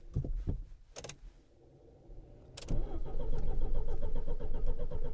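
A Fiat Coupe fitted with a Lancia Delta engine cranks but fails to start after losing power: a few sharp clicks and short starter bursts, then a longer loud, rough, continuous cranking churn up close, with no talk.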